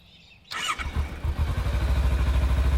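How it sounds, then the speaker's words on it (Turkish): A cold motorcycle that has sat unused for a long time starts up after a brief starter whir, then settles into a loud, steady, pulsing idle close by. "Ben bu arada motoru da aslında çalıştırayım."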